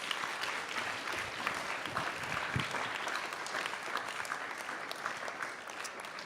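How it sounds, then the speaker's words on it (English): A crowd applauds panelists at a Hannah Arendt Center living room conversation panel. The clapping is steady and sustained, dense and even from start to finish, with no voices rising above it. "So please give them a round of applause."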